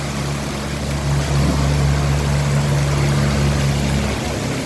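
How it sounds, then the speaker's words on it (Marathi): Gutter water overflowing and gushing onto a road beside a hospital in Dharashiv, a steady loud broadband rush with a continuous low drone, close and constant throughout. "पाणी असं जसं का उकळ मारतंय असं पाणी आलेलं आहे पूर्ण"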